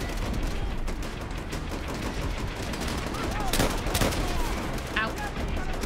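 Gunfire rattles in the Call of Duty: World at War video game, with a sustained stream of shots and two sharper, louder bursts near the end, all in a noisy battle mix with no voice.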